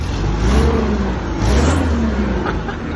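A car engine revving up under throttle, with a loud, close rise in engine note and two swelling pulses over a few seconds.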